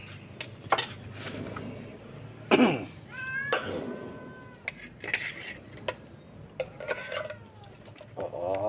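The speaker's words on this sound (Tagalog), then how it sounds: "Gutom ang pusa" Several plaintive meows from a hungry cat rise and fall amid clattering dishes and household clatter, repeated insistently at close range.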